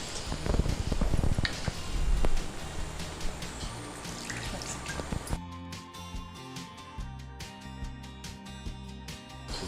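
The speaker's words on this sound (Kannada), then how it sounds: "ನೀರು ಹಾಕಿ." Water is poured into ground sambar masala in a cooking pot, giving a splashing, trickling rush that is loudest early on, then gives way to thinner drips and bubbling.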